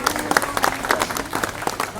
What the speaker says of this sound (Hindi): उनके लिए भी मैं आप सबसे जोरदार तालियां बजाइए